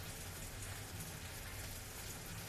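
Rain falling outside on a rainy day, heard indoors: a steady, dense hiss of rainfall with a faint low rumble beneath, constant and even throughout with no talking.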